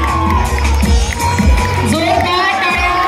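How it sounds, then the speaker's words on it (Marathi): A crowd at a Ghumat Aarti competition prize-distribution function applauds and cheers loudly and continuously, with shouts and voices mixed into the sustained roar. "जोरदार टाळ्या"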